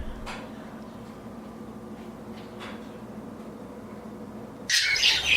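Pet birds in an indoor bird room give a few scattered calls and squawks over a steady low hum, ending in a loud, bright burst of chatter.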